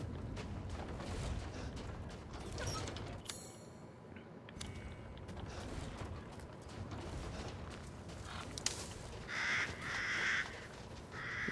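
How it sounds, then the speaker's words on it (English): Crows caw in the video game Resident Evil, harsh calls repeating over a dense game soundscape with creaks and mechanical noise, no voices. "Some crows."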